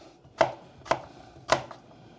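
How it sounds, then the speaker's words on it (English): Apples being chopped with a kitchen knife while making a dessert: three sharp, evenly spaced chops on a cutting board, close and clear, with no talking. "We're going to chop up the apples."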